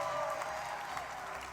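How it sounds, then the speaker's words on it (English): A brief burst of audience applause at a Christmas holiday music event, steady and moderately loud with a faint tonal hum beneath it. "Please release your applause."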